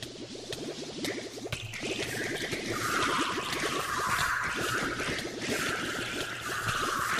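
Shower water running in a video game, a steady hissing spray with bubbling, trickling texture, close and continuous, with faint game sounds beneath.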